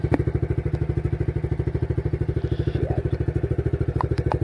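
Small single-cylinder engine on a home-built motorized bicycle idles steadily nearby, a fast even putter with a clattery edge and no voices over it.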